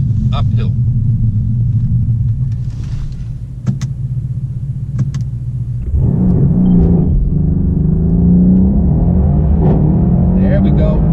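Mercedes C63 AMG with traction control on, idling with a deep burbling rumble before the engine surges into a hard, loud acceleration with rising revs, under a few short clicks and light talk.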